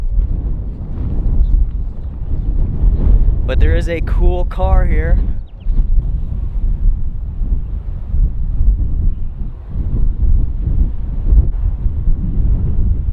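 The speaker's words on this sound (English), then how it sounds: "it is insanely windy out there, as you all just heard" Strong wind at a closed-down former hotel buffets the microphone in heavy, low rumbling gusts throughout, while a person speaks briefly partway through.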